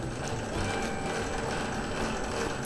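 A Grilletta IM5 dough mixer runs with a continuous mechanical whir and faint rhythmic clatter of gears, steady and fairly close, with no voices.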